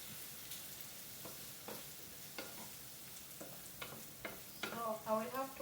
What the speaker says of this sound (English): so I will have to let tomato cook a little bit